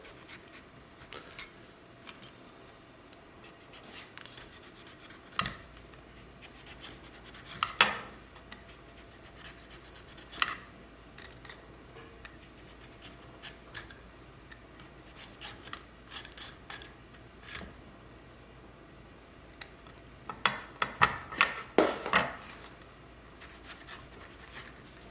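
Peeling and dicing a potato with a knife in a home kitchen, with quiet scraping strokes and scattered chopping taps against a cutting board, no talking.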